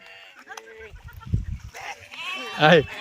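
A sheep at Mutharam village pond lets out a short, nearby bleat near the end, with someone speaking over farmyard background sounds.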